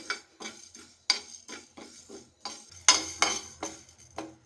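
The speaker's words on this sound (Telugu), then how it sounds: "దీంట్లోకి మెంతులు, ధనియాలు, జీలకర్ర అన్నీ వేసుకొని లో ఫ్లేమ్లో దూరగా వేయించుకోవాలండి." Fenugreek, coriander and cumin seeds dry roasting in a pan on low flame, a series of close clinking and scraping stirs with seeds rattling against the metal, no voices.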